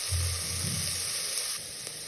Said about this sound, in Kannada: ಇದು 1-2 ನಿಮಿಷ ಫ್ರೈ ಆಗಲಿ.